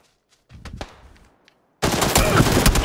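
PUBG shotgun gunfire on Xbox One X erupts as a loud, dense burst of rapid blasts after a quieter stretch of scattered clicks and movement noise.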